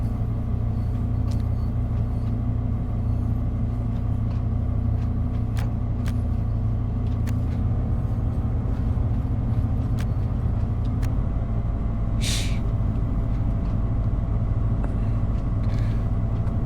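Steady low rumble of a train running in the Train Sim World 6 game on the Leipzig–Dresden line, a continuous engine and rail drone with a few faint clicks and a brief hiss partway through, no talk.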